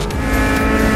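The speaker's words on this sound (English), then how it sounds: "This is Darcy Wade and the little Honda Integra on the outside." A Honda Integra race car in a wet Queensland Raceway improved production race, engine roaring loud and close with a steady, strained tone and the hiss of spray.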